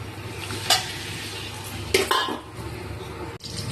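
Cauliflower and egg curry stirred in a pan with a utensil scraping and clinking against the metal, a soft sizzle underneath, close and steady for a few seconds.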